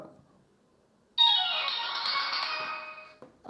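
A phone set off by a budget Wings Prime smartwatch's find-my-phone feature rings with a single bright electronic ringtone, close and clear, sounding for about two seconds before cutting off, with no talking.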